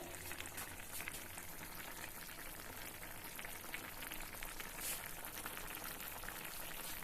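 Assamese fish curry with tomatoes simmers in a covered pan, a faint, steady bubbling and soft crackle heard close up without any talk.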